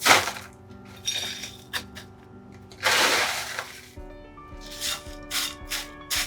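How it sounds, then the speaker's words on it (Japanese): Ice clatters and crunches onto a large deep plate fitted with a colander-style strainer in several bursts, with glassy clinks and scraping between louder pours, as a bed for sashimi. "こちらに氷を引いていきます"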